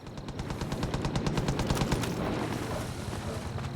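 Automatic gunfire strafes enemies at night in the video game Far Cry 5, rattling out in loud, rapid, continuous bursts with no talking.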